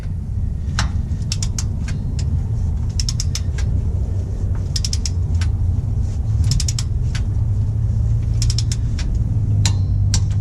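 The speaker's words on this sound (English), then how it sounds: "Go get my torque wrench to properly torque it." Ratcheting torque wrench tightening a drain or fill plug on a first-generation Toyota Sequoia 4x4 transmission or differential, giving a run of sharp clicks in irregular bursts over a steady low rumble, with no talking.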